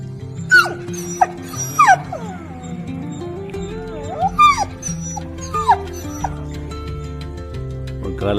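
A street dog whimpers and yips in short, high whining bursts, several times over a steady low background hum.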